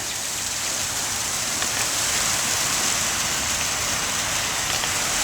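Mixed snow and rain falls steadily outdoors, a dense, even hiss of precipitation striking surfaces, loud and unbroken from start to finish with no voices.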